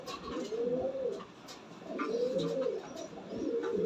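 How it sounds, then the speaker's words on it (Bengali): A young fantail pigeon coos in repeated soft, throaty phrases, three rolling bursts close by with brief pauses between, and no talking. "এটা টেলমার্ক একটা বাচ্চা কবুতর"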